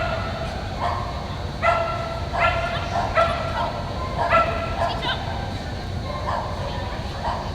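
A Cavalier King Charles Spaniel barks during an agility run at the UKI US Open, giving a string of short, clear yips and barks at irregular intervals over steady crowd and arena noise, with voices in the background.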